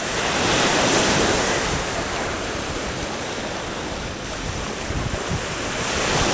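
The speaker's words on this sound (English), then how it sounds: "look at the wave action on that wall" Ocean waves crash against a wall at Lanikai Beach in Hawaii, a loud, continuous roar of surf with heavy wind buffeting the microphone throughout.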